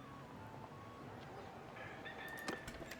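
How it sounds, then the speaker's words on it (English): Roosters crow faintly in the distance in Mount & Blade II Bannerlord, soft calls rising over a quiet ambient background near the end. "There's the roosters."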